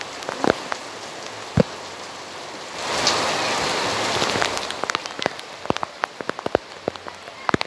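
Heavy rain pours down onto a surface in a dense, steady roar that swells loudest midway, with scattered sharp drips and knocks standing out nearby.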